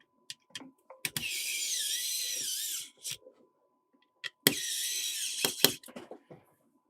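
A small electric screwdriver drives screws into a PC Engine SuperGrafx console in two high whirring bursts of about two seconds each, separated by quiet and scattered with small clicks and taps.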